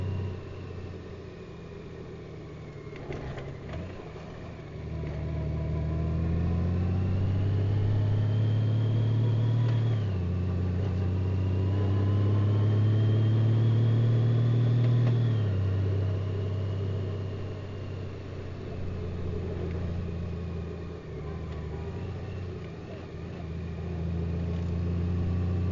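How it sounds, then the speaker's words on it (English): Another vehicle passing on a rocky canyon road near Parker Canyon, Arizona: a steady engine rumble swells over several seconds as it goes by, then eases back to a constant drone. "Comes another vehicle."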